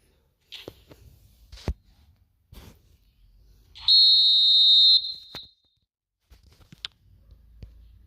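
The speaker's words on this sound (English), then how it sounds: "And the half-time whistle goes." Referee's half-time whistle in an eFootball video game match, one long, shrill steady blast lasting about a second, surrounded by sparse clicks and short thuds against near silence.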